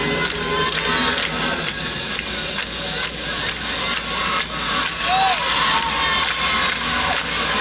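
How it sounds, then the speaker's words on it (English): Crowd at a women's college gymnastics meet, Air Force vs Clemson, clapping rhythmically along with a floor routine amid cheering arena noise, loud and continuous. "Crowd is clapping along with Lippett"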